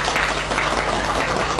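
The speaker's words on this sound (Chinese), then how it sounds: "热烈的掌声欢迎他们" Enthusiastic applause from an audience welcoming prize-winning children at an award ceremony, steady dense clapping held at a constant level throughout with no voices over it.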